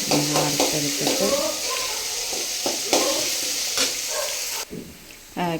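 Urad dal fries and is stirred in a pan, with a steady sizzle and repeated scraping strokes of the spoon close by; a voice speaks intermittently over the cooking.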